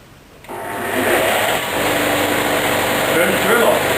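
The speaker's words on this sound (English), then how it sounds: "Turn the sander on." An electric sander starts up after a brief quiet moment and then runs steadily with a close, whirring motor hum, used in a workshop while making threaded bosses.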